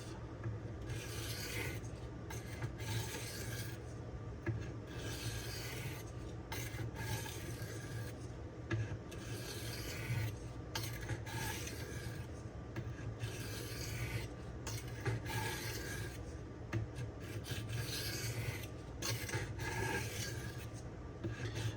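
A Cold Steel Swift knife being sharpened on DMD diamond stones, quiet steady rasping strokes repeating in a regular back-and-forth rhythm, close up with no talking.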